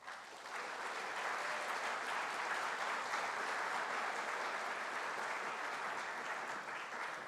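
Audience at a dental school white coat ceremony applauding warmly, a full, steady wash of many hands clapping that swells in quickly and holds evenly for several seconds in a large hall.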